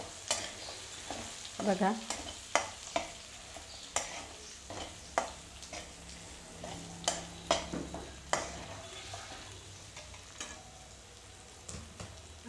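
Sabudana khichadi ingredients cooking in oil over medium heat: a quiet, soft frying hiss under repeated spoon scrapes and taps against the pan at an irregular pace, with one brief spoken word.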